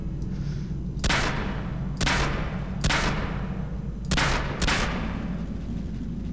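Gunfire in Call of Duty 4: Modern Warfare, five loud, close bursts of shots spaced about a second apart over a constant low rumble of battle ambience.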